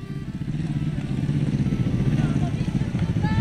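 A manual-clutch motorcycle engine runs during beginner riding practice, a close, steady mid-pitched putter with a rapid pulsing beat at a low speed, heard continuously with faint background noise.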